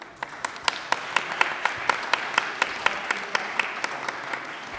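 An audience in a hall applauding, a steady, moderately loud patter of many hands with sharper individual claps standing out at a regular rhythm.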